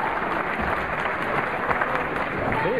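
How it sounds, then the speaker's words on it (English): Crowd applause at a Mosconi Cup pool match in the arena, steady clapping from the spectators with a faint murmur of voices underneath. "That was the applause you heard"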